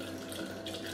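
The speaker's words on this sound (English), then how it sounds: "To those 2 teaspoons of raw pine pollen, I'm going to add half a quart of water." Filtered water poured into a jar holding raw pine pollen, a brief, soft, continuous trickling gurgle close by.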